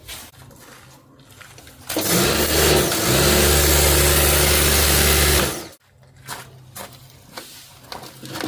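A car engine starts and runs loudly close by for a few seconds as the car is driven over beside old floor tiles, then cuts off abruptly, leaving quieter background sounds.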